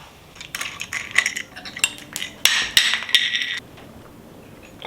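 A wrench working the 10 mm fork pinch bolts on a Honda CRF300L, giving close metallic clinks, taps and scraping clatter in an irregular cluster, then settling into quiet, with no talking.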